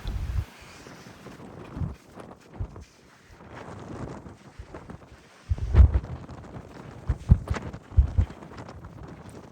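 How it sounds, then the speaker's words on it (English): Gusty wind buffeting the microphone at hilltop ancient ruins in Nicaea, Turkey, arriving in irregular rumbling bursts with quieter gaps between and no talking. "So windy"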